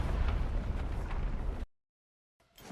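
A massive explosion from a kick attack in Roblox The Strongest Battlegrounds booms loudly at once and rumbles on, then cuts to silence before a softer burst returns.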